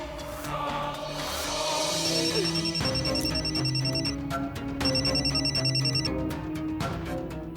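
A telephone rings on and off with bright repeated trilling bursts and pauses between them, loud and close, in a Hindi TV drama scene, with a music score underneath and no voices.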